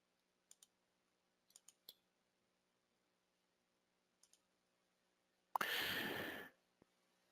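Two quick double-click pairs from a computer mouse, each tapped in rapid succession, followed later by another faint pair of clicks in a quiet room, with a brief breathy sigh near the end.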